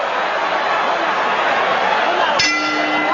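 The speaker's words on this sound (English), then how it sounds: "as the bell sounds." A single boxing ring bell clang rings out over a loud, roaring crowd near the end of a round in the Gerald McClellan vs Julian Jackson fight, its tone lingering briefly.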